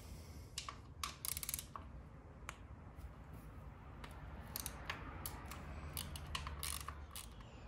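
A ratchet works 8mm bolts on a Honda CRF250L, giving sharp scattered clicks and short bursts of rapid ticking, faint and close over a low background hum.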